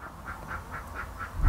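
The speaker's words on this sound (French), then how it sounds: "T'as fait chier les canards !" Ducks quacking in a garden, a regular series of about six nasal quacks at moderate distance, followed by a close rumbling thump.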